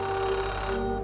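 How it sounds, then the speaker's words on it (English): Payphone ringing in the Oxenfree 2 video game, a steady electronic bell tone sounding loud and close for about a second with no one talking over it. "A payphone ringing in the wild?"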